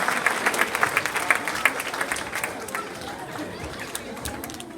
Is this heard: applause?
yes